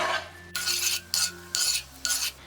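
A utensil stirs boiling jaggery syrup in a cast iron pan for sesame seed balls, making four or five rhythmic scraping strokes, close and distinct, over a low bubbling hum.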